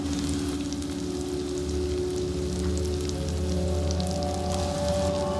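Ground spices fry in hot oil for a fish head mung dal, making a continuous, even sizzle over a low steady hum.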